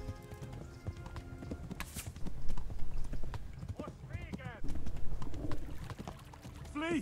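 Horse hooves clop along in the medieval video game Kingdom Come: Deliverance, a rhythmic trot under game ambience with a few bird calls, while someone talks over it in places.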